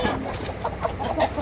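Rooster on a free-range chicken farm, giving short, close clucks against outdoor background noise.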